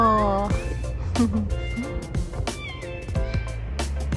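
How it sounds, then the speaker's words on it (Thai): A cat meows several times up close, its drawn-out harmonic calls rising and falling over a steady low background hum, with no one talking. "ฉันขอรู้จักแมวเธอหน่อยได้ไหม"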